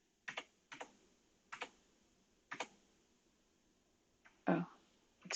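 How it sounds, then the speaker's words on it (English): Keyboard arrow keys pressed one at a time, giving four or five crisp, separate clicks spaced about a second apart at close range, followed by a louder throat-clearing burst near the end. "I'm going to use the arrows on the keyboard because those work faster."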